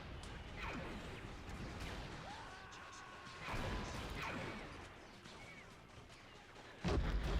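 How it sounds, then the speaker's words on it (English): Explosions and crashes burst in a Men of War Assault Squad 2 Star Wars battle, a few heavy booms and whooshes spread over several seconds amid quieter game noise, the last blast sharp and loud. "Look at those explosions."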